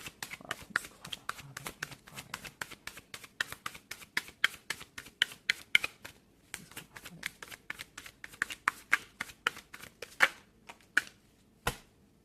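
Rapid crisp riffling and flapping of tarot cards being shuffled, repeated bursts in quick rhythm with short pauses, close up.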